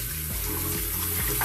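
Water running steadily from a tap into a sink while a makeup brush is rinsed, a continuous close splashing hiss with a low hum beneath, no talking.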